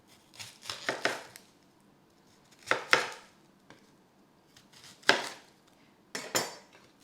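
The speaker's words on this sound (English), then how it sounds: "Now I've quartered it, and I'm just gonna take the outer skin off." Kitchen knife quartering and peeling an onion on a board: several separate bursts of cutting and scraping, each a quick cluster of crisp strokes and taps, with quiet gaps between them and no talking.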